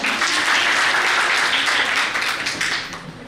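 Loud, dense applause from an audience at a college NCC fest fills the whole stretch, steady and close before easing slightly at the end, with no talk over it.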